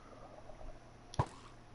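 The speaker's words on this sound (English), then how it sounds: "Can you shoot into the water?" A single arrow shot into water in Minecraft gives one sharp, splashy hit partway through, standing out from faint, steady game ambience.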